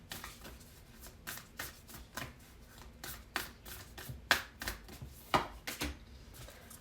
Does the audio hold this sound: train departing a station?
no